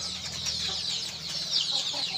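Chickens at a poultry farm raising Sonali and desi birds cluck in a steady, busy chorus throughout, fairly close and continuous with no talking over them.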